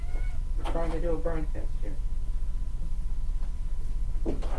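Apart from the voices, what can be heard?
cat meowing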